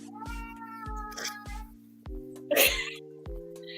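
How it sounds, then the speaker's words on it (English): A small child cries out in a room, a short series of high, strained wails over a steady tonal hum, with one sharper, louder burst near the end. "Was that a child or cat? That was a child."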